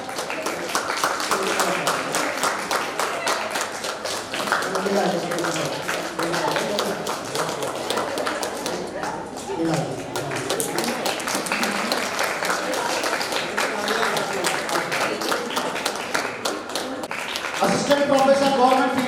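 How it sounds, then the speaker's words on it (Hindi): Sustained applause from an audience at a state science seminar, a long continuous wash of clapping hands with a voice speaking over it and a louder swell near the end. "तालियों की गड़गड़ाहट।"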